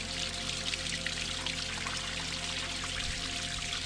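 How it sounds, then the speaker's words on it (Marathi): Spring water pours steadily into a bottle from a mountain source near Awalewadi, Lonavala, a continuous splashing rush that stays close and unbroken throughout. "तर आता आपण पाणी भरूया पहिले."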